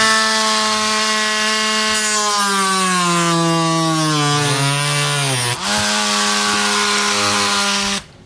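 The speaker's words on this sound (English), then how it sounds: "we're going to come back with a Dremel tool" A Dremel rotary tool cuts through a body panel on a 2017 Volvo V90, a loud, close, high-pitched whine that holds steady, dips in pitch as the bit bites, then recovers before stopping abruptly.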